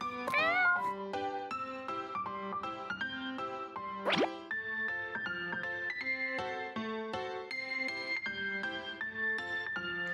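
A kitten meows once, a short rising cry heard over cheerful, continuous cartoon music in a children's cooking game.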